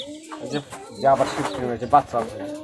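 Pigeons coo among a keeper's flock in Rajshahi, with soft repeated calls rising in short bursts while people talk nearby.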